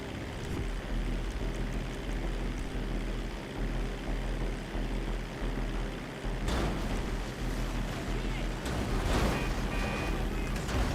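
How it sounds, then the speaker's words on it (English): Seaplane landing on water in GTA Online, a loud continuous engine and propeller drone with rushing water splash, surging twice as the plane touches down. "That's how you land a seaplane right there."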